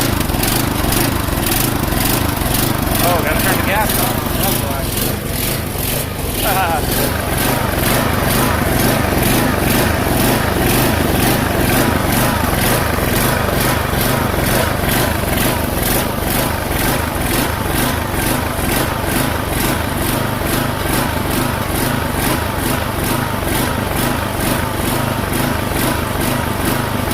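A small gasoline engine, newly reassembled after a teardown, runs loud and close after its fuel is turned on, holding a raspy, steady drone with a brief surge dip early before it settles, and no talking.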